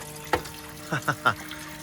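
Water from a hose runs into the live well of an old hunting and fishing boat, a few short splashing gurgles close by over a faint steady background.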